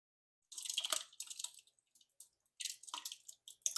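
Green apple pectin liquid is poured slowly through cheesecloth held with clothespins, giving close, soft splashing and dripping in bursts with brief pauses between.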